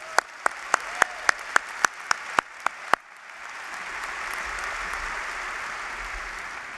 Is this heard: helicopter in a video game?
no